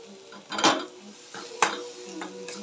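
A spoon scraping and clinking in a pan while stirring chilli powder and salt for matar paneer: two sharp metallic knocks followed by lighter scrapes, close and clear, without talk.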